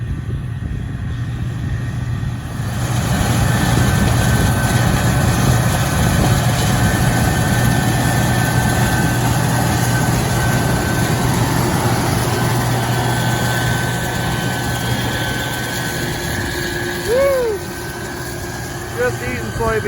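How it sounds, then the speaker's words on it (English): A combine harvester runs steadily through a soybean harvest on a cold, windy day, its engine a continuous loud low rumble with a faint whine riding above it. "The beans are just flying right through the combine."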